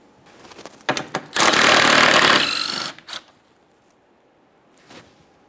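A 13mm socket on a power tool spins out radiator support bolts on a 2013-2020 Ford Fusion 2.0L, giving a loud buzzing burst of about a second and a half, then shorter clicks and a faint rattle.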